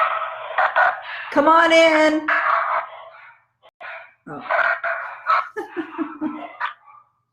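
Small puppies bark and yip in short, excited bursts close by, with a few whimpering notes between them, while someone speaks over and between the barks.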